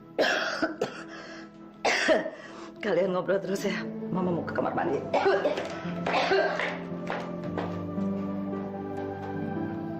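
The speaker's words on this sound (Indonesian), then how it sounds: "belakangan ini batuk Mama tambah parah." An older woman coughs repeatedly in harsh, wet bursts and clears her throat, close by in a quiet room, her coughing mixed with her own speech and followed by a low musical tone underneath.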